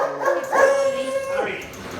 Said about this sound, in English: She's a sweet, gentle little dog, smaller than a beagle.